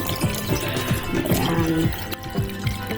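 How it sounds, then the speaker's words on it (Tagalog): Water pours into a cooking pot of pork and vegetable soup, a bubbly, gurgling splash that runs steadily for a few seconds, with quiet background kitchen sounds. "So, dadagdagan natin ng tubig."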